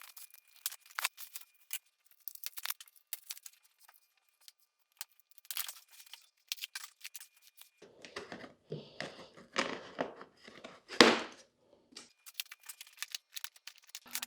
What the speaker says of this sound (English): I'm just gonna get started now with taking the packaging off